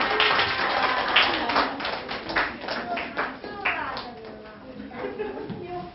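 Audience applause at a creation-science lecture in Korea, a dense, steady patter of clapping lasting several seconds with voices talking over it.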